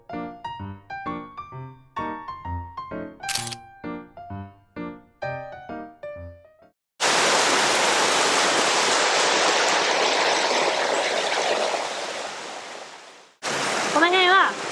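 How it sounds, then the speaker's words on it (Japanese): Oirase mountain stream in Aomori with fast, turbulent water, a broad steady rush that comes in suddenly after a run of musical tones, holds for several seconds, drops out briefly and then resumes. "すごい流れが激しいね。 音がさっきまでと全然違う。"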